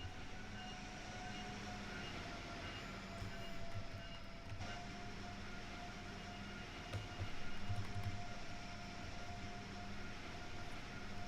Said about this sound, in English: this is so really unpleasant to listen to, these blowers. That's what the noise is